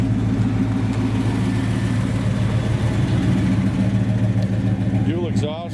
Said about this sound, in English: We'll let you hear it run here